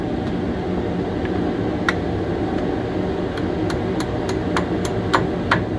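Sharp metallic hammer taps ring out over a steady mechanical hum as a strut is tapped into place on a 2006 Toyota Tacoma, a few scattered at first, then a quicker run of evenly spaced strikes.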